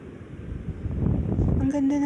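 Wind gusts across a beach at low tide, a steady low rumble buffeting the microphone and growing stronger midway, with a brief tonal sound near the end.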